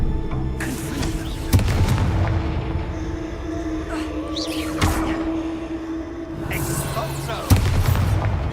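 Fiery Confringo spell blasts go off in the Hogwarts Legacy video game, with a few loud booming bursts rising over a dense, continuous bed of game effects and rumble.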